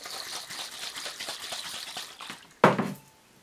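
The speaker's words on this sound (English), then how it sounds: "To get everything to dissolve, I'm going to take the bottle and just shake it up." Someone vigorously shakes a bottle holding dichloromethane and water during a menthol extraction from mint leaves. The liquid sloshes in rapid, close splashy pulses, ending in one sharper knock or slosh before quiet.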